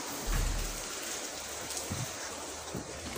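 Steady rain hisses in the Free Fire video game, a constant, fairly loud wash of falling water with faint low thumps underneath and no talking.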